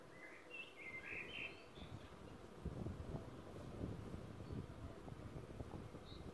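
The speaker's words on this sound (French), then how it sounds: "et on entend les oiseaux, c'est déjà ça." Birds chirp in bright short bursts early on outdoors, over steady low wind rumble that buffets the microphone throughout.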